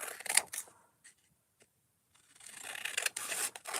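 Scissors cutting paper diagonally for making paper beads, a few close crisp snipping and rustling bursts separated by a near-silent pause.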